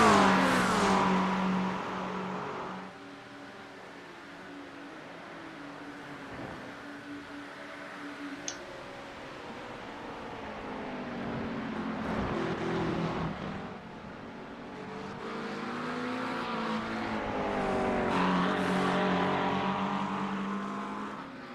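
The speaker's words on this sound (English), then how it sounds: "Jacob's coming out of the pits. That's that BMW" A BMW race car in the iRacing sim at the 24 Hours of Spa, its engine droning and shifting pitch steadily as it exits the pits, harmonics rising and falling through gear changes, moderately loud throughout.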